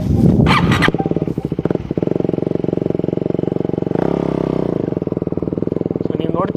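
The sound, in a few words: motorcycle engine running with throttle engaged for wheelie practice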